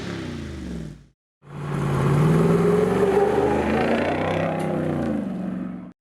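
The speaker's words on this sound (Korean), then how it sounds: "V8 sound." A Jeep Wrangler Rubicon 392 with its V8 HEMI engine roars and revs loudly and close, a brief burst, a short cut to silence, then a long sustained rising engine note.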